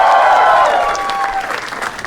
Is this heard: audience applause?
yes